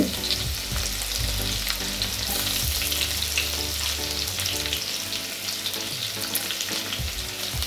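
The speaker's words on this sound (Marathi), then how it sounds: "त्याच्यामध्ये मी हे आलं लसूण जे पेचून घेतलेलं आहे ते टाकते" Ginger-garlic paste and bay leaf fry in oil left over from frying eggs, producing a loud, continuous crackling sizzle close by, with a low rumble underneath and no voices.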